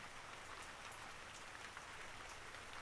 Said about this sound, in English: the rain returned to play its gentle lullaby